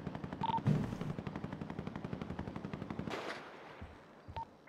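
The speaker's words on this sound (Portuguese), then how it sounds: "Escutou o tiroteio?" In a GTA roleplay game, a long, fast, evenly spaced stream of automatic gunfire rattles for about three seconds, followed by a few scattered shots. The whole exchange is fairly faint.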